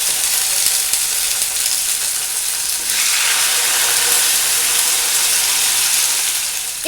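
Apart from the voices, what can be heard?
chicken frying in hot oil on a tawa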